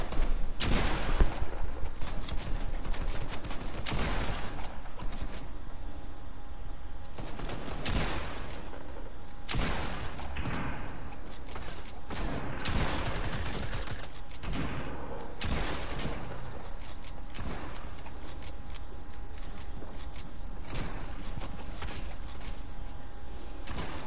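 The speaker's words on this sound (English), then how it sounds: "Where that shooting coming from?" Gunfire in the video game Fortnite, rapid bursts and single shots cracking repeatedly over a steady noisy background, loud and sustained throughout with no talking.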